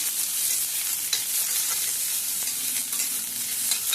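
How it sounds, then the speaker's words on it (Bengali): Onion and garlic fry in a pan with a dense, steady sizzle, punctuated by soft scraping stirs every second or so, close and without talk. "পেঁয়াজ রসুনটা ভাজা করে নিচ্ছি।"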